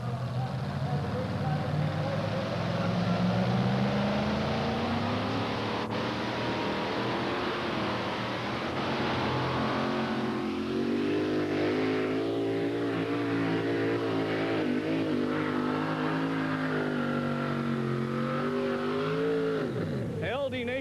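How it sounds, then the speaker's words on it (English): A 1934 Ford delivery van pulling truck with a 640 cubic inch engine roars continuously at a two-wheel-drive truck pull, revving and straining with rising pitch as it labors, while an announcer talks over it. "Boot Hill Delivery, 1934 Ford delivery van, 640 cubic inch areas, powered Nation's pulling team"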